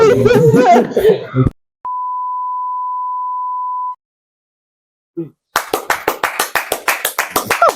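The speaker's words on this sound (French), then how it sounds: "Vous applaudissez" After talk and a long steady beep, a group claps in a sharp, fairly close burst that keeps going to the end.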